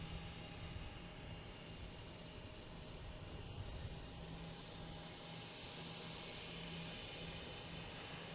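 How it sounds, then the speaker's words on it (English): An Airbus A321neo airliner passing at Boston Logan Airport, a faint, steady distant engine drone with a low hum and a gentle swell, heard with no talking. "we got a A321neo passing next to British Airways there"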